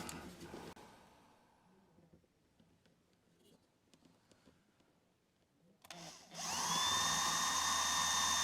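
A power drill whines up loudly and keeps spinning steadily at high pitch while boring a hole in a wooden Christmas tree ornament, following quiet handling clicks and faint tapping.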